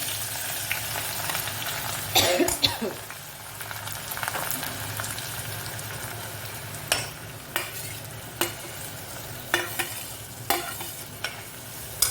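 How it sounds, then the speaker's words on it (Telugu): Chopped onions sizzle in a few spoonfuls of hot oil in a pan, a continuous frying hiss broken by sharp stirring scrapes and clicks that grow more regular toward the end. "ఆయిల్ అయితే హీట్ ఎక్కింది ఇప్పుడు కట్ చేసుకుని ఉల్లిపాయలు వేసుకుంటున్నాను"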